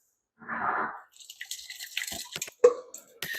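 Salt water brine poured into a jar for fermented habanero and jalapeño hot sauce: a soft splash, then a run of trickling, dripping liquid with small clinks and knocks, fairly close.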